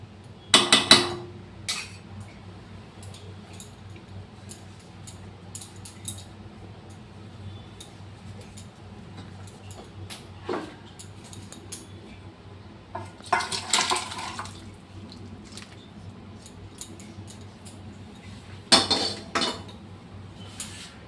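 Cooked potol dalna, a pointed gourd curry, being poured and scraped out of a cooking pot, heard as a few sparse clinks and scrapes of a utensil against metal with soft wet sloshes, separated by quiet pauses.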